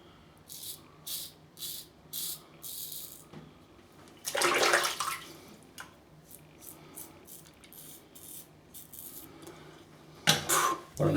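Tap water runs in a sink to rinse a Wilkinson Graydog safety razor and face between shaving passes, heard as bursts of splashing, a longer gush in the middle and another at the end.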